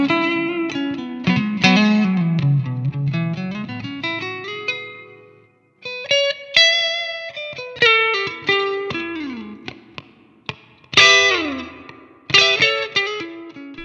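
Electric guitar through a Fender Mustang GT amp on a heavy metal distortion tone, loud ringing chords and single notes with bends and slides, a short silent gap midway, no talking.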